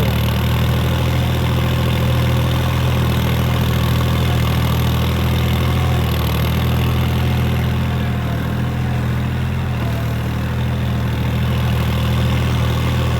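A tractor engine runs steadily at idle-like pace while travelling, a loud continuous low rumble with rattling vibration throughout, no voices.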